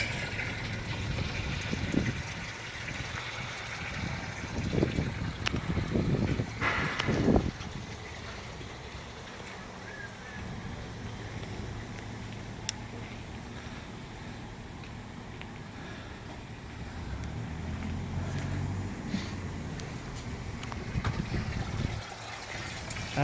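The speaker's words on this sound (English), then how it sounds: "As the water is filling up inside the liner" Water runs steadily into a dunk tank liner, a continuous moderate rush and trickle with a few louder splashing bursts early on, then settling into a quieter, even flow for the rest.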